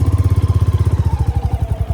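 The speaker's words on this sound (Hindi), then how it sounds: "अभी हम इस बाइक में जाएंगे उस गाँव तक" A motorbike carrying riders to a village has a loud, close engine chugging at a rapid, even pulse, a rough mid-pitched throb holding steady throughout, with no voices.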